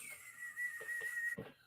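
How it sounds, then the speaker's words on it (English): A steam pot releasing pressure gives a steady, thin, high whistle that holds for over a second, faint and close, before a brief soft clatter ends it; no talk. "you have to wait for the whistling to totally erase"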